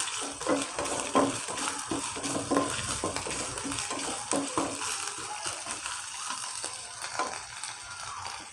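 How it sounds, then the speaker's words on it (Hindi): Ingredients for bakery-style chicken bread rolls sizzle and crackle in a hot pan, with irregular scraping stirs and soft clinks of a utensil, close and continuous. "हल्का सा भून लेते हैं इसको।"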